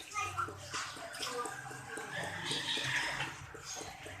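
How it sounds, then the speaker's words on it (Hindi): Water is poured in a thin, faint stream into a mashed potato and besan batter in a home kitchen, under a voice talking throughout. "थोड़ा सा पानी डाल देंगे।"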